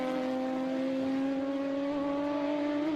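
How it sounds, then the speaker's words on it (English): A steady, droning Trans Am race car engine at Road America holds at high revs, slowly rising in pitch, heard from a distance. "Great sounding car too"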